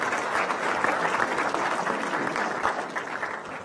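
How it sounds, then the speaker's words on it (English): A debate audience in a library hall gives a brief, steady round of applause, an even patter of many hands clapping that fades slightly at the end. "Let's give him a round of applause just for playing along."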